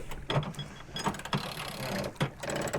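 Sailboat winch on a Bestevaer 36 cranking a line to raise a plywood epoxy rudder blade, giving close, repeated ratcheting clicks in short bursts with brief pauses between turns.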